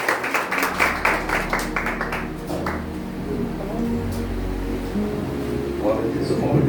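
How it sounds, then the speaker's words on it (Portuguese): Church congregation clapping in rhythm for Jesus during a worship service, a dense burst of applause in the opening seconds that fades into the reverberant hall with voices and music underneath. "Dê uma salva de palmas para Jesus com bastante alegria"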